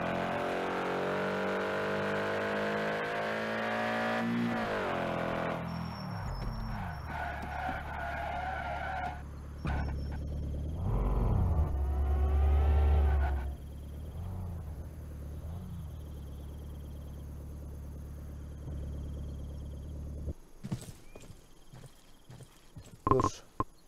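An old car drives in the game Estate Agent Simulator, a steady engine whine that climbs and drops with gear changes, tyres squealing and skidding in bursts, ending in scattered clicks and knocks.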